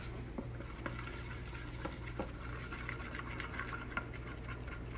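Glue mixture being stirred into slime makes a continuous soft, wet stirring and patter, with scattered light clicks against the container, close and fairly quiet, no speech.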